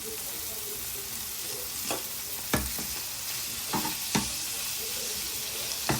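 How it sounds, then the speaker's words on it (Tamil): Chicken pieces and green chillies sautéing in a pan for chicken cutlets, a soft constant sizzle broken by a few sharp spatula knocks and scrapes against the pan, no talking. "இதையும் நல்லா வடிவாக்கி வதக்கிட்டு ஒரு 2 மினிட்ஸ் வதங்கின அப்புறம் பார்ப்போம்"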